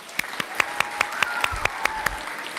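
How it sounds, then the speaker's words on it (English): Sparse, evenly spaced hand claps ring out one after another at a Connecticut Kid Governor announcement, sharp and distinct, with a faint tonal hum running underneath. "Let's do one more round of applause"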